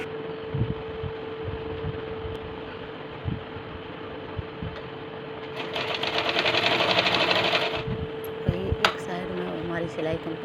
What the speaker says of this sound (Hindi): और अब हम इस पर सिलाई करेंगे और 2 इंच का मार्जिन छोड़ते हुए और कट से कट मिलाते हुए हम सिलाई करेंगे अपनी पूरी कंप्लीट।